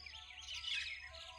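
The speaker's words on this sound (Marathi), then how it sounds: "हे पहा हे पक्षी आहे आमचे" Small birds chirp faintly in a brief burst of thin, high tweets at a feeding spot in Shembal Pimpri.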